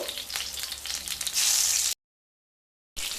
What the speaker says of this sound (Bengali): তেল গরম হয়ে গেলে বেগুনগুলো ভেজে নেব